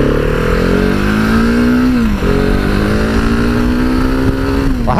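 Husqvarna 701 Supermoto single-cylinder engine revving hard and steadily, pitch climbing under load, dipping briefly as it shifts, then pulling up again and easing off; loud and close, with no talk.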